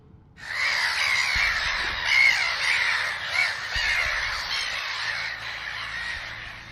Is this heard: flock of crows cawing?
yes